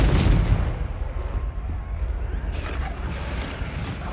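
A Confringo fire spell blast in the video game Hogwarts Legacy, a heavy booming burst at the start that rolls into a sustained rumbling roar, loud and close, with no speech over it.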